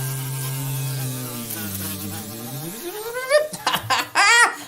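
A voice imitates a buzzing bee with a sustained droning bzzz that wavers and rises, then breaks into bursts of laughter near the end.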